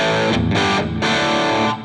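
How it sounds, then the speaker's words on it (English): Electric guitar through a real gain pedal, heavily distorted chords struck in a few loud stabs with short gaps between them, playing alone and then stopping abruptly. "here is the sound of the pedal first of all."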